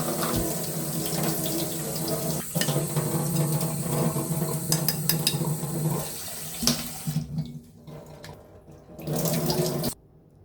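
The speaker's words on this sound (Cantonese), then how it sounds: "將啲米去洗一洗佢先" Rice is washed in water for steamed rice: a steady tap stream splashes and swishes into a sink, with pauses and brief clinks, before the water cuts off at the end.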